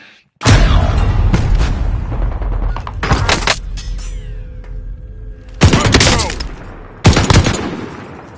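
Rapid bursts of automatic gunfire from a gun in a video game, loud and close, with several sustained volleys separated by short pauses.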